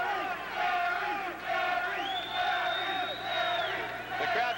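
A wrestling crowd at ringside chants in loud rhythmic waves, voices swelling and dipping in repeated pulses, with shouts and whoops rising above the chant.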